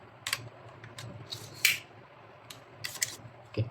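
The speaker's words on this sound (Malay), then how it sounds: "Tu ni ada macam button, kita boleh tekan tombol ni" A button clicks on the hard case of a MECHANIC ES420 electric screwdriver set: several small, sharp plastic clicks and taps, spaced irregularly and close by, in an otherwise quiet room.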